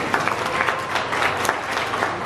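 An aquarium audience claps for a diver, a steady patter of applause from a moderate-sized crowd that fills the room evenly for a couple of seconds.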